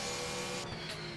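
GT race cars in a racing video game braking hard on the Brno circuit in the Czech Republic, a loud sustained engine roar with tyre squeal that drops in pitch as they slow for a turn, no talking.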